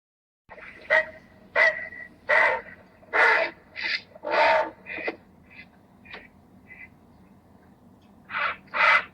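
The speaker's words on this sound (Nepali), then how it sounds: "बकुल्ला" An egret gives harsh, croaking calls, about a dozen separate rasping squawks spaced irregularly, fairly close and loud over a quiet background.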